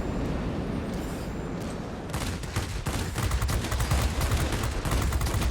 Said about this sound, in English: Let's go ahead and put this cannon to use on a ground attacker.